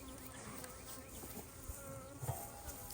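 A dense, steady buzz of many bees droning around a hive, heard from about 20 feet away, faint and a little distant, with no talking.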